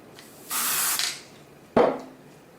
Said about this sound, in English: Spray the back of it.